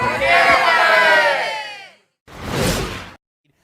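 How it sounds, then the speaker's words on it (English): A crowd at a high school hockey game between Amherst and Williamsville South roars and cheers loudly for about two seconds, fades out, then a second shorter burst of crowd noise swells and dies away. "The crowd is into it."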